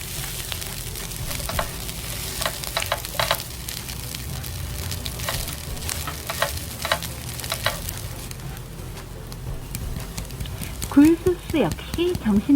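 Spam fried rice is stir-fried in a pan with a bowl of cold rice, producing a steady sizzle broken by repeated scraping stirs. The frying settles near the end, when a voice speaks briefly over it.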